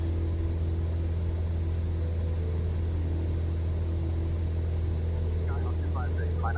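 A Cessna Skyhawk engine in a flight simulator, climbing in flight as a steady, droning low hum with constant loudness, and a radio voice speaking faintly over it near the end.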